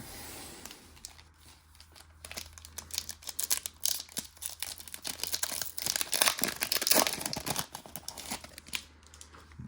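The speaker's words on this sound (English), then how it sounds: "So set this box over here and we'll rip our first pack." A 2025 Bowman's Best trading card pack is torn open up close, with crinkling foil and rips that grow denser and louder midway, followed by rustling and card handling.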